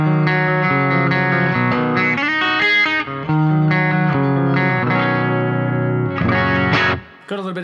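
An electric guitar plays chords and single notes through a Roland Space Echo tape echo and plate reverb, with echoing repeats and a wash of reverb, sustained and loud throughout, with a brief pause near the end.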